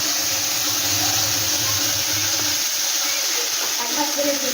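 Spice paste hits hot oil in a pan and sizzles loudly and steadily at close range. The continuous hiss holds throughout, and a low voice murmurs underneath at the start.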